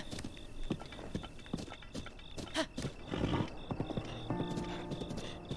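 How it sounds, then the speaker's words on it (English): A video game horse, with clip-clop hooves and a neigh or whinny over steady game ambience, fairly close and busy, with no talk. "Treat your horse better."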